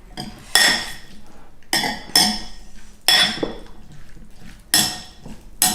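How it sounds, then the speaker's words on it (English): A utensil clatters against a pan several times while onion, garlic, balsamic and mushrooms are stirred, each sharp metallic knock followed by a soft wet scraping, close and clear with no voices. "And all we're going to do now is just give that a stir."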